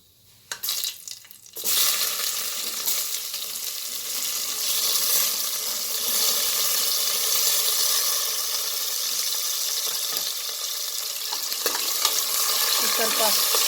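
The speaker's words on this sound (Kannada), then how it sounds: "ಇದು ಚೆನ್ನಾಗಿ ಫ್ರೈ ಆಗೋ ತನಕ ಕೈ ಆಡಿಸ್ತಾನೆ ಇರಲಿ" Onions fry in hot oil for a kidney and liver biryani, a loud steady sizzle that starts after a few soft clinks and continues close up as the pan is stirred.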